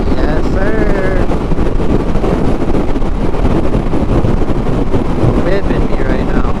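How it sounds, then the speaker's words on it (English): Strong sideways headwind buffeting a microphone on a motorcycle ride, a loud continuous roaring rush of wind noise throughout, with a voice faintly audible beneath it. "Straight headwind. It's like a sideways headwind."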